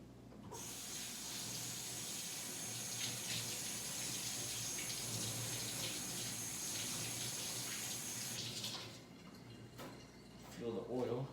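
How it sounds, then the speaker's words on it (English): Tap water runs steadily into a sink during handwashing, a continuous hiss that cuts off near the end, followed by a few faint drips and small handling knocks. "Let me just wash my hands real quick."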